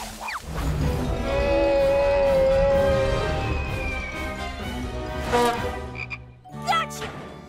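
A cartoon frog croaks in long, loud, drawn-out calls, followed by a few shorter squeaky croaks near the end.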